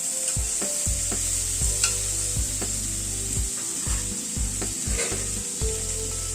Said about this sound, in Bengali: নুন হলুদ দিয়ে সবজিগুলোকে একটু ভেজে নেব।